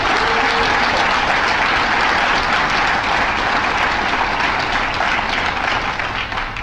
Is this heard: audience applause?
yes